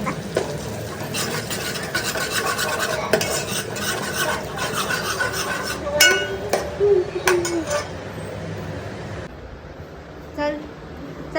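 A spoon stirs Malvani chicken curry with tomato puree in a pan, scraping and clinking against the metal while the sauce sizzles. People chat nearby as the stirring goes on, and it quiets toward the end.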